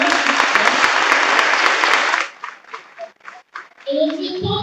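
Church congregation applauding at a Baptist pastor's installation ceremony in Haiti, a dense burst of clapping for about two seconds that stops abruptly, followed by scattered sounds and voices.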